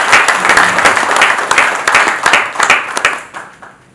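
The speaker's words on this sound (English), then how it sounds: "a big clap for Mr." An audience at a conference session on the EAC-EU Economic Partnership Agreement breaks into loud, sustained clapping from many hands, which fades out toward the end.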